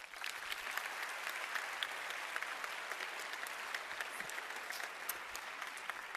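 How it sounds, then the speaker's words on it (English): An audience at a Euroscola session applauds the teachers, a steady, even wash of many hands clapping from a distance that holds at a moderate level throughout, with no talking over it. "So I think they deserve also your applause."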